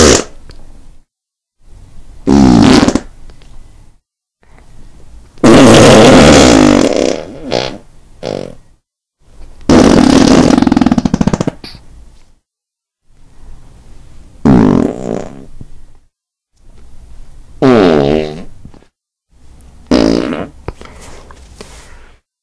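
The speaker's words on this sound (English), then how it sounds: "So I just fart whenever I have to." Repeated loud, close farts come in bursts of varying length, some long and spluttering and others short, separated by silent gaps across the stretch.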